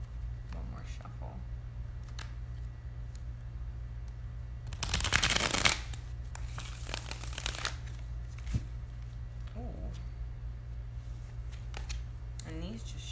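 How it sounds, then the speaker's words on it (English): Tarot cards being shuffled in a single loud riffling burst of about a second, close to the mic, set against a steady low hum with faint handling noises before and after. "One more shuffle."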